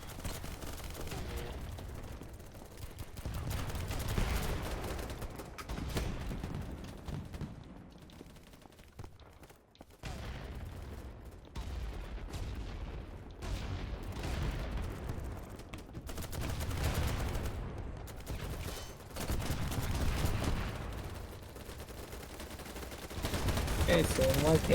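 Gunfire in the shooter game BattleBit, sustained rapid automatic shots and blasts rolling through most of the stretch, with voices talking over the constant combat noise.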